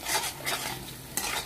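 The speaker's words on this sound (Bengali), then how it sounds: "তো এটাকে আমি সুন্দর করে অনবরত নাড়বো।" Meat tossed with bay leaves in a pan for a cauliflower curry, stirred in three scraping strokes over a steady, gentle sizzle; no voices.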